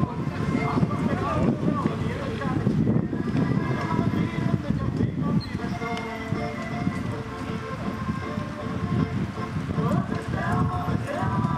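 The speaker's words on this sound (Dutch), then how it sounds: "bruine paarden." Brown horses clip-clop steadily through the clip, their hooves mixed with wind noise on the microphone while people talk over them.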